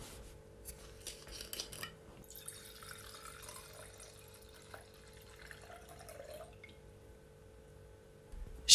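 Chenin Blanc white wine poured into a glass, a soft trickling and dripping with faint clinks of glassware, quiet and close, with no talking.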